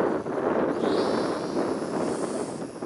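A SonikRC Corsair model plane from Volantex flies slowly through wind, and a steady broadband rush of gusts and microphone buffeting carries on throughout with a faint whine rising partway through.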